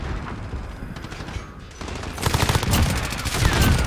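Rapid M4A1 automatic fire in a Call of Duty Modern Warfare match, sustained bursts growing louder and denser through the second half, with a quieter stretch of scattered shots before.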